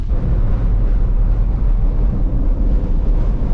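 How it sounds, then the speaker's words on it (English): Strong wind blowing outdoors across open farmland with downed corn, a loud, steady low roar buffeting the microphone throughout with no other sounds. "So it is very windy out."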